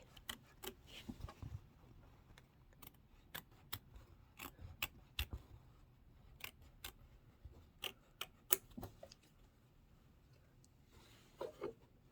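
Scissors trimming quilt fabric in a sewing room: a series of quiet, crisp snips scattered irregularly over a faint background, with brief pauses between bursts of cuts.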